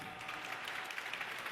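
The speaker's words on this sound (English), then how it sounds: "Yes, applause, please." Audience applause at a startup summit main stage, a steady wash of many hands clapping at moderate distance, continuous throughout without voices.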